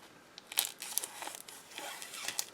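A wrapped 6x6 Homespun Christmas paper pad of 24 sheets is cut open, giving quiet close crinkling and tearing of plastic and paper in short irregular bursts, with no voices.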